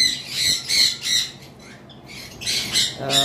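Two female cockatiels on a bird farm squawk in a hot room, giving several loud, harsh close-up calls in quick bursts with short pauses between them.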